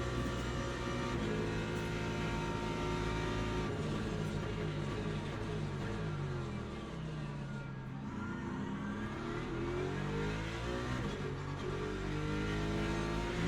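BMW and Ford Mustang race cars in a racing video game, engines droning and revving steadily together at high pitch, with shifting tones as they jostle for position, loud and continuous with no talking.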